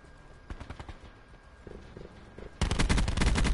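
Gunfire in Black Ops 4 starts as several spaced shots, then becomes a loud, rapid automatic burst that carries through the final second.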